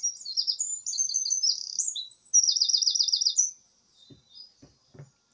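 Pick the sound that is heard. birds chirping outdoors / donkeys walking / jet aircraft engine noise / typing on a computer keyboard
birds chirping outdoors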